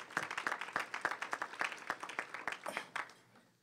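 A conference audience at a diversity breakfast applauds, with dense rapid clapping from many hands that carries steadily for several seconds and then tapers off near the end.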